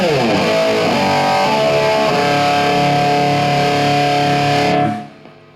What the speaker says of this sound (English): The dirty channel is what sounds like this.